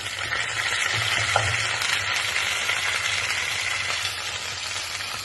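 Curry leaves crackle and sizzle in hot oil, a steady dense frying hiss holding for several seconds with a few brief pops, close and fairly loud, no talking.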